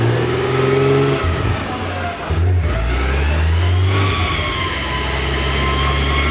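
Built Nissan RB26 engine revving on a dyno, a loud sustained roar with rising harmonic pitch, a brief dip in revs partway through, then climbing again steadily and close.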